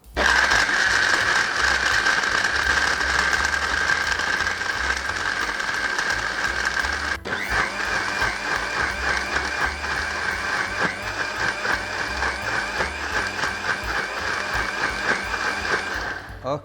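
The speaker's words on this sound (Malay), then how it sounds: "Kita pun dah siap blend." A blender whirs steadily at close range as it purées ingredients with dried shrimp and water, a loud, even motor drone lasting about seventeen seconds with a brief click partway through.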